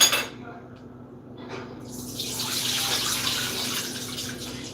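Oxtails get rinsed under a running kitchen tap, a steady close splash of water rising after a brief pause at the start.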